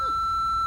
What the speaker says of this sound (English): Oh, that's the phone went.